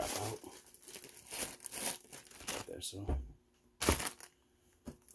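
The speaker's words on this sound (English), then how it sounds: "Get the bubble wrap out." Bubble wrap is pulled out of a cardboard box, giving crinkling, rustling plastic and a few sharp crackles, with a person speaking briefly over the handling.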